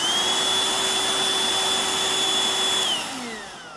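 A household vacuum cleaner runs with a steady whining motor and airy roar, then winds down near the end, close and alone.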